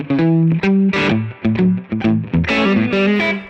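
Electric guitar lead tone through a custom Two-Rock Bloomfield Drive amp, with distorted sustained single notes and bends carrying a reverb tail, loud and up close with no talking.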